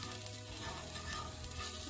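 A Diwali snack mixture with salt and boiled potatoes fries in a pan and is stirred, giving a steady, close crackling sizzle with soft scraping from the stirring and no talk.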